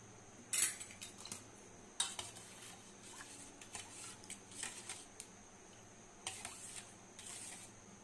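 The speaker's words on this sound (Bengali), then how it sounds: "বিট লবণ আর গুড় দিয়ে ভালোভাবে মিশিয়ে নিচ্ছি।" A spoon stirs black salt and cane jaggery into a green mango drink, giving faint, scattered clinks and scrapes against the vessel at close range, with no voices.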